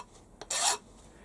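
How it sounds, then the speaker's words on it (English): A hand file rasps once across the edge of a freshly milled metal part to deburr it, a short bright scrape preceded by a faint tap, otherwise quiet. "We'll give that a quick deburr"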